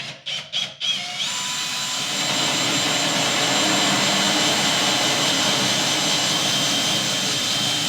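Fitted with a 3/4 inch bit, a power drill cuts through copper, starting with a few short bursts and then holding a loud, steady, high-pitched whine close by with no talk.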